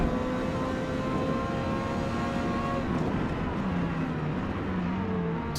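A Ferrari V8 race car in Forza Motorsport drones at high revs on a wet track in the rain, a steady loud engine tone that shifts pitch as it works through corners.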